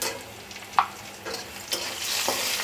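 Potatoes frying with salt and turmeric powder in a pan for a Bengali bitter gourd and potato chachchari, a steady close sizzle with a few sharp stirring scrapes and clinks throughout.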